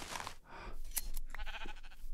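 Sheep in the Minecraft video game bleat several times in quick succession, short wavering cries that overlap in a close, moderately loud cluster with no talk.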